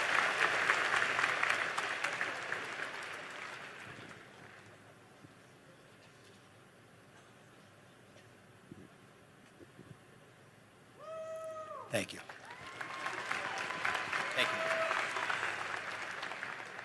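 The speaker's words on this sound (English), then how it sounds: "Give Liam a round of applause, folks, for being brave and asking a tough question." Audience applause at a political event in Montana, a broad wash of clapping and crowd noise that fades to a quieter murmur, then swells again after a brief sharp sound.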